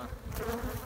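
Dense buzzing of a honeybee swarm being rehoused in a hive, a steady close hum of many wings filling the short moment with no voices.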